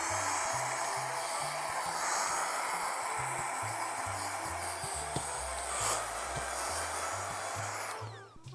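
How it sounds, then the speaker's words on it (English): A vacuum cleaner pulls dust out of an opened PS1 console during a refurbishment, a steady close whine with low rattling and pulsing as the nozzle moves over the parts, then cuts off near the end. "we'll just vacuum up some of this"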